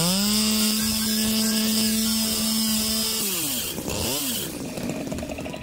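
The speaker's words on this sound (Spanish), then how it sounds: "hay que cortarlos con esta sierra para poder... ¿Sí? Para poder pasar." A saw in the Paw Patrol vehicle game cuts through obstacles blocking the road, giving off a loud, sustained buzzing whine that holds steady and then dips and wavers as it bites through.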